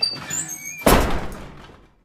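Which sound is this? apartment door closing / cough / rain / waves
apartment door closing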